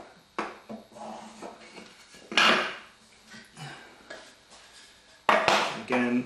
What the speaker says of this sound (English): I'm just scratching it so I can see it, but it's not deep